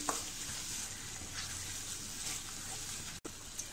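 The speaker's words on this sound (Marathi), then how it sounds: "हा सुद्धा मसाला आपण असा छान असं 5 मिनिटं याच्यामध्ये परतून घेऊया" Masala frying in oil in a pan for chicken Kolhapuri, a steady close sizzle with faint stirring scrapes and one brief dropout near the end.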